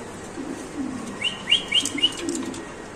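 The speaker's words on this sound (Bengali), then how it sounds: "এখানে আছে একজোড়া জায়ান্ট হোমা কবুতর" A pair of giant homer pigeons at a fancy pigeon farm give soft, brief chirps and coos, with a short flutter of wings midway, close and fairly quiet.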